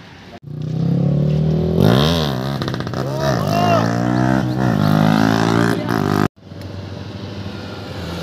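Motorcycles on a Sunday group ride roar past loudly, their engines revving up and down with shifting pitch during a fly-by and small wheelie, then cut briefly before a steady rumble resumes.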